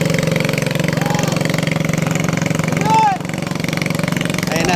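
A small motorboat engine chugs steadily with a rapid, knocking rhythm on a wide river, while people talk and shout over it nearby.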